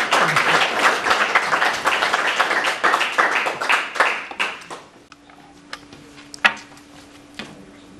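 An audience at a lecture hall talk applauds a professor with dense, lively clapping that thins out after about five seconds into a few scattered claps, then faint room noise.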